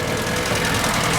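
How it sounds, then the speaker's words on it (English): An Atomic 4 inboard boat engine idles on its first start in over a week, a dense, loud, steady mechanical rumble with no pause and no voices. "The engine noise was kind of drowning out here"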